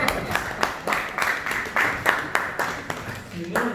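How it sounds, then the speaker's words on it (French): Claps from an audience at a contract-signing ceremony for business plan competitions, distinct individual claps in a fairly even rhythm rather than a dense wash, heard close with voices in the background. "Applaudissez pour les filles."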